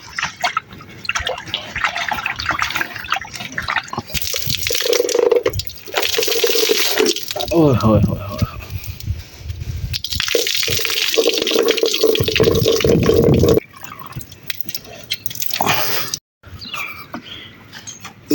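Rainwater splashes and pours off a tarpaulin in bursts, with a steady running stream in the middle, under excited voices calling out nearby.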